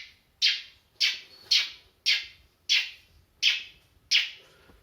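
A voice imitates the squeaky PP-squeaker shoes of small children: seven evenly spaced, sharp high squeaks, close and loud, with nothing else heard.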